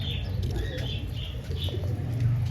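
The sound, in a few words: pigeon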